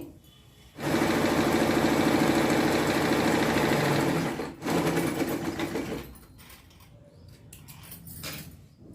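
A sewing machine stitches a seam on a patiala pant, running in a loud continuous whirring burst for about four seconds, pausing briefly, then resuming before tapering into quieter clicks and handling noises.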